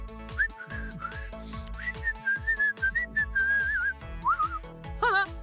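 A person whistles a wavering, melodic tune for several seconds, clear and close over a bouncy musical backing, ending with a quick rising flourish.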